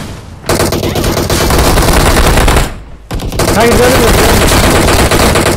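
Rapid automatic gunfire in the battle royale game PUBG Mobile, loud sustained bursts that break off briefly around the middle and then resume, with a few words spoken over them.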